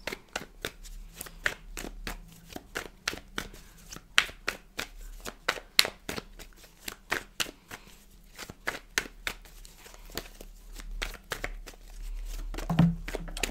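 Tarot cards shuffled by hand in a steady run of crisp, rapid riffling flicks, close and fairly loud, with a slightly heavier slap near the end as a couple of cards spill out.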